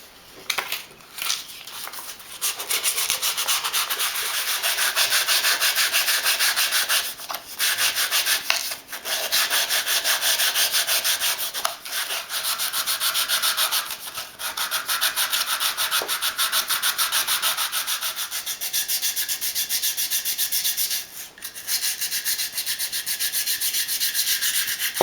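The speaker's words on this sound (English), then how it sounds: "You don't really want to sand to finish off, you just want to smooth it down." Hand sanding of a wooden dice tower, a continuous close scratchy rubbing in long steady strokes with brief pauses between passes, with no talking.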